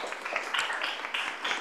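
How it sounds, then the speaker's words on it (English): Modest applause at a crypto meetup in Sofia after thanks to Ivan, a thin scattering of claps from a small audience, fairly quiet and even throughout. "a round of applause for him."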